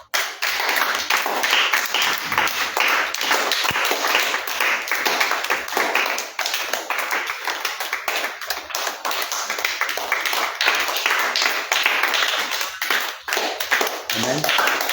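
A church congregation claps to acclaim the Lord at an evening prayer service, a loud, fast, steady patter of many hands that runs unbroken for about fifteen seconds, with voices faintly underneath.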